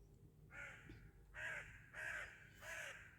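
A crow caws four times in a steady series, each call harsh and fairly distant, heard faintly outdoors at a countryside summer cottage with no talking.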